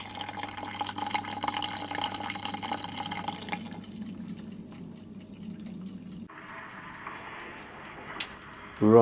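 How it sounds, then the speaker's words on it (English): Home-brew mash recirculating in a brewing setup, with water dripping in a steady rapid ticking rhythm over a low continuous hum, close and fairly quiet, ending in a brief louder clatter. "I've just got that gently recirculating now"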